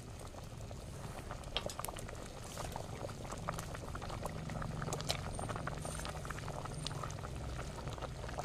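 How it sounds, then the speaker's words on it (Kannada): Masala curry boils steadily in a pot, a continuous close bubbling and sputtering that stays fairly even throughout, with no talking. "ಇವಾಗ ಮಸಾಲ ಚೆನ್ನಾಗಿ ಕುದೀತಾ ಇದೆ"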